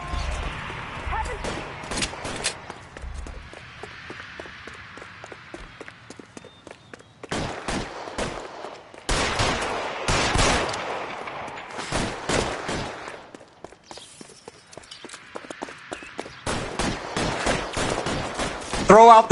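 Gunfire from a shootout in the video game L.A. Noire: several clusters of sharp, loud shots separated by quieter gaps, mixed with footsteps and game sounds, with voices speaking at times.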